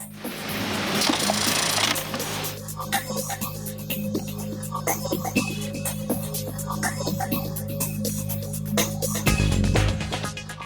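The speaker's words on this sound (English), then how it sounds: "Tacking of buttons." A fast, steady mechanical chatter comes from an industrial sewing machine tacking buttons onto pants in a factory. It runs close and continuous with rapid stitching pulses, and a brief low thump comes near the end.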